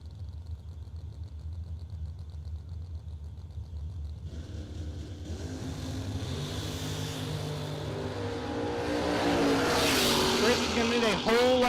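Drag race cars, including a Lubbock-based Mustang, launching at a drag strip as an engine roar builds from a low rumble to a loud, rising blast, with an announcer talking over it.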